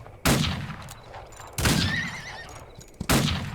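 Gunfire in the Outlaws of the Old West video game, aimed at a horse: three loud, sharp shots spaced about a second and a half apart, each with a ringing tail, and a horse whinny rising between them.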